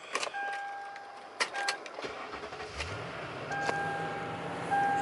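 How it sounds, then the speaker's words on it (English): A 2007 Toyota Tundra Limited 4x4 is started: a brief starter crank followed by the engine catching and settling into a low, steady idle inside the cabin, with small clicks and beeps before it. "Now let's start this vehicle up."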